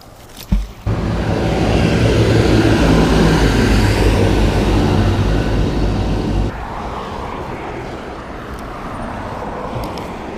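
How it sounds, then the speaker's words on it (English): A loud, steady roar of passing car traffic near a river washes over the scene, swelling then dropping abruptly to a quieter background rumble of road noise. "Sorry about that background noise. There is cars everywhere."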